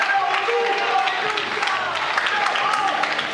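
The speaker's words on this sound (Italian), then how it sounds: "Ben applauditi adesso Luca Manca e Luigi Ferreli al termine di questo secondo round" Steady applause for two boxers at the end of the second round of a boxing night in Cagli, a dense crowd clapping throughout while a commentator talks over it.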